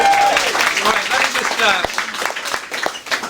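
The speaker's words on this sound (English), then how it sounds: "Let's give him a round of applause." A crowd at a congressional campaign event applauds for a named guest, a dense burst of clapping with voices and cheering mixed in, loud at first and thinning out.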